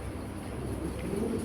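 Racer pigeons, a pair of pied racers, coo softly and continuously, low murmuring calls over steady background noise.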